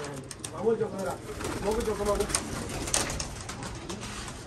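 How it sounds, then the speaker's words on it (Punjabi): A large pigeon coos in low, rolling phrases close by, while people talk over and around it. "ਜੋ ਉਹ ਵੱਡਾ ਕਬੂਤਰ ਹੈਗਾ"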